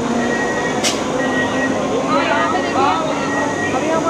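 An AC local train pulls out of Barrackpore station in West Bengal, bound for Ranaghat, giving a steady, loud rumble and hum of the railway with indistinct voices mixed into the background.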